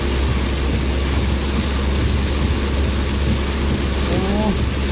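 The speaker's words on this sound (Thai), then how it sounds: "ท้องฟ้าแบบมืดฟ้ามัวดินเลยฝนตกหนักมากนะ" Heavy rain and thunder during a drive through Khon Kaen, a thick unbroken wash of rain on the car with a low rumbling undertone, loud and constant for the whole stretch.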